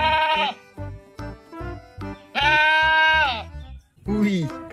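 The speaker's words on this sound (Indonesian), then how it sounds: "ternyata ini si kambing" A goat bleats three times in loud, wavering calls, each separated by short gaps filled with quieter clicks and rustling.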